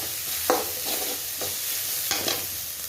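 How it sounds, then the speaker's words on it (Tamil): Ginger garlic paste is stirred into frying onions in a pan for a Tamil mutton gravy. Several spatula scrapes sweep across the pan over a constant sizzle, with no voices. "இப்போ இந்த இஞ்சி பூண்டை நல்லா மிக்ஸ் பண்ணி விடுவாங்க வெங்காயத்தோட"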